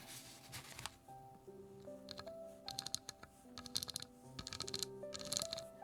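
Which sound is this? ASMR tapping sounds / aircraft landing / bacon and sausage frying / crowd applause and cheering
ASMR tapping sounds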